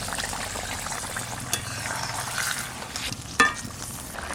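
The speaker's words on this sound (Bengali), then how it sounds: "নেড়ে নিচ্ছি।" Fish being stirred in boiling water in a pan for a Bengali lau chingri dish, with a steady bubbling hiss, a few soft stirring scrapes, and a sharp clink of the utensil near the end.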